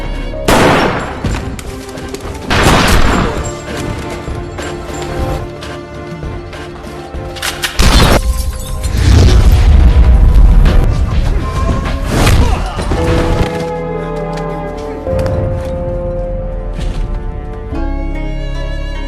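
Film gunfight with police: loud, dense bursts of gunshots and automatic fire with heavy impacts and crashes, repeated cracks spread across the scene over music and effects, near and forceful.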